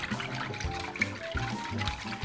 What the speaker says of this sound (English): now I'll just pour it in and whisk it into this sauce